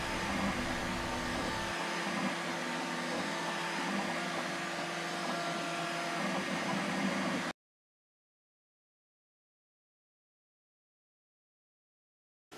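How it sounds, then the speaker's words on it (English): A Bambu 3D printer prints a PLA ramp, giving off a steady whirring hum of fans and motors for about seven seconds before the sound cuts to silence, with no talk. "I'm using my new bamboo 3D printer to print the Accu-Wedge ramp."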